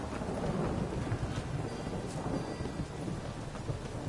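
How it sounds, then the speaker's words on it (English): Thunderstorm with rain in the video game The Witcher 3, a dense steady hiss of falling rain under a low rumbling of thunder, continuous and fairly loud. "A storm, damn it."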